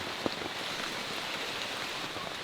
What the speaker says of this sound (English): Raining this morning.